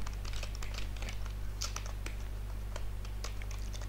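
Computer keyboard keys tapped in quick irregular bursts while entering code, soft and steady over a low constant hum.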